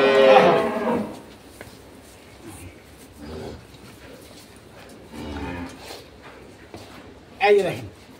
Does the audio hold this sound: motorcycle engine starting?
no